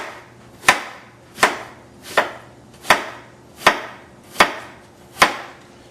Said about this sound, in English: Cut the onion in half, then simply slice down on the onion like this.